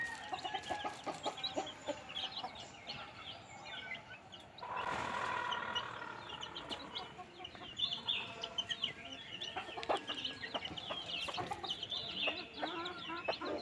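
Free-ranging rooster and hens in the rainy Konkan countryside cluck and call in a busy, fairly faint chorus, with a louder squawking cry in the middle and overlapping chatter throughout.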